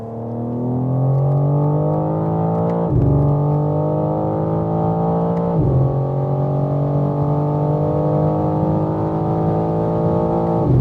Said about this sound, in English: I still hear the real exhaust note. That's how loud this Akrapovic exhaust is.